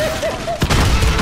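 A close explosion in Modern Warfare multiplayer, a sudden heavy blast midway that gives way to a rumbling, crackling tail, after a quieter stretch with a tonal whine.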